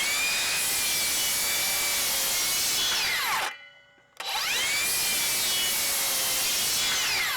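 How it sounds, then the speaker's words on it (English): A Makita 36V LXT circular saw cross cutting treated lumber, its loud whining cut running steady, dropping out briefly in the middle, then resuming at full strength through the rest. "let's try a couple cross cuts across the treated 6x6 and see what it can do"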